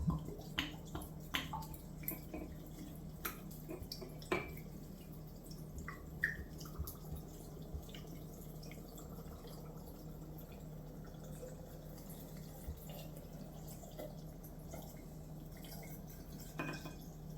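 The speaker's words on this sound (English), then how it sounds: "To the concoction, just going to add some gin." Gin is poured into a kilner jar of rhubarb as a faint, steady trickling stream, with a few small glassy clinks and drips near the start, quiet and close with no talking.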